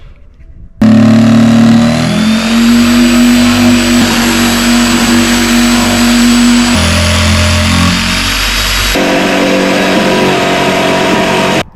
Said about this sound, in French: Place à la scie sauteuse.